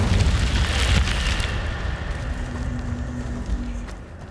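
The Incendio fire spell cast in Hogwarts Legacy, a loud whooshing burst of flame and booming rumble that hits at once and then slowly fades away.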